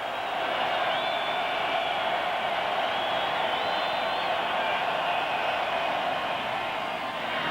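A big football stadium crowd at the Orange Bowl during Tennessee vs Miami in 2003 makes a steady, distant murmuring roar, a constant broad hum of many voices with no peaks.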